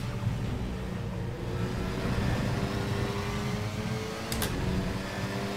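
A GT4 race car engine in RaceRoom Racing Experience, a steady droning engine tone held at fairly constant revs, loud and continuous with a brief high whistle near the end, no talk.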